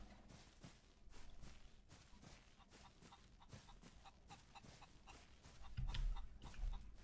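Chickens in the Old West survival game Outlaws of the Old West, soft repeated clucks and pecking over a quiet steady background with footsteps, faint and somewhat distant.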